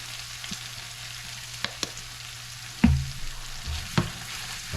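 Honey garlic chicken wings cook in a pan with honey, a steady soft sizzle running underneath a few sharp clinks and scrapes of stirring near the middle and end.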